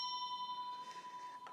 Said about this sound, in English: like this bell. You don't have equally spaced tones, but you nevertheless have a very definite set of tones.